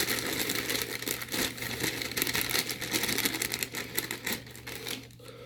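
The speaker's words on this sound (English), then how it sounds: "And we just whisk this in." A whisk beating fudge brownie mix into batter in a bowl, a fast continuous rattling clatter close by that keeps an even pace for several seconds before easing off near the end.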